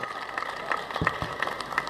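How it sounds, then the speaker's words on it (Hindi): A live audience at a Hindi comedy poetry gathering claps in a loose, scattered burst, sharp individual claps heard close over a noisy hall. "ताली एक बार बजाओ ताकि मेरे को लगे कि आप जिंदा हो"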